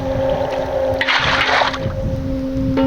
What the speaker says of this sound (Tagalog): Oops, may tubig na naman.